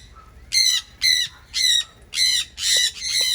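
Parrots squawk in six loud, harsh bursts at a regular pace, close by, with quiet background between calls.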